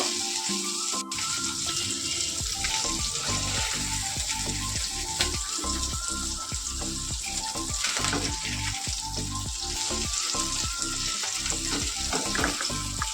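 Small bele fish fry in oil in a pan, a dense, loud, continuous sizzle and crackle lasting throughout, with occasional faint stirring taps and no voices.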